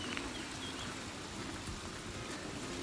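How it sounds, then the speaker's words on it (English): Water of the Gostilje waterfall on Zlatibor, Serbia, rushes in a steady, even wash of noise without pause. "I just love the sound of water."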